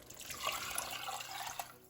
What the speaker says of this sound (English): And next we'll be adding our water.